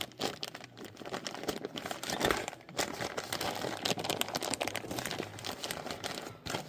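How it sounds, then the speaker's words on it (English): Packaging for a replacement wheel seal on a Bobcat S205 skid-steer loader is torn open by hand, giving a steady run of close crinkling and ripping plastic noises that carry on throughout without any voices. "I'll rip this open."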